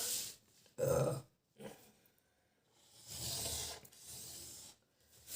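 Fabric for a katori blouse being cut with scissors, heard as a few close, separate rasping snips and rustles with quiet gaps between them.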